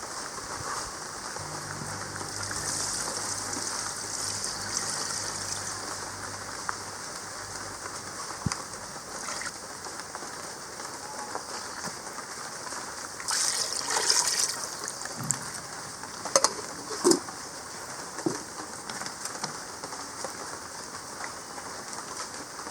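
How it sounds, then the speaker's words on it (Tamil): A steady stream of water pours continuously into a cooking pot of mutton curry for a long stretch, with a few clinks and knocks of a vessel. "இது வந்து குழம்புக்கு தேவையான அளவு தண்ணி சேர்த்துடலாம்."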